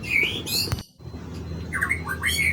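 Hand-fed white-rumped shama (murai batu) chick, about a week to two weeks old, giving a run of high, thin chirps and squeaky begging calls, close and fairly loud, with a brief pause partway through.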